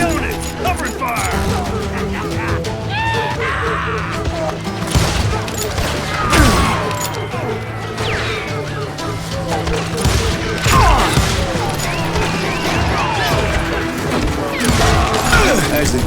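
In the video game Call of Juarez Gunslinger, gunfire crackles in dense, rapid bursts, mixed with crashes and thuds, while game characters shout over the battle throughout.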